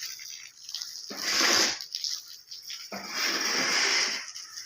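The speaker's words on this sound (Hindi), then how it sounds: "तराई वाला अमल लगातार जारी है, इसको नहीं रोका क्योंकि तराई ज़रूरी है।" Water splashes onto fresh brickwork in a courtyard under repair, keeping the bricks wet for curing. Two separate bursts of hissing spray, each lasting over a second, sit close by with quiet gaps between them.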